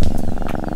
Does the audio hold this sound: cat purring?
yes